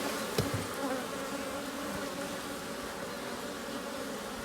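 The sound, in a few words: honey bees buzzing at an opened hive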